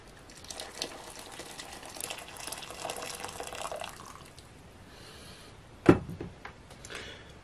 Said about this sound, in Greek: Θα βάλω 1 λίτρο νερό.